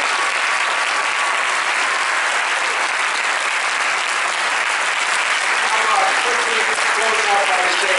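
An audience applauds a speaker at a public talk, steady dense clapping filling the room from start to finish, with a brief spoken thanks heard faintly beneath it.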